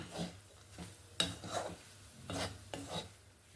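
Coconut filling being mixed with milk powder and crushed cashews, a spoon or spatula scraping and rasping against the pan in a few short, close strokes with soft stirring in between and no talking.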